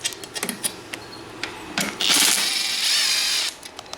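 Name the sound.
ratchet removing 10 mm bolts on Yamaha Raptor 700R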